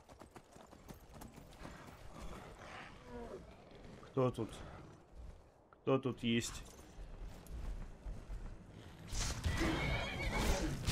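Horse hooves clip-clop in the game Skyrim, joined by loud, repeated neighing and whinnying mixed with game sounds, while someone speaks briefly over it.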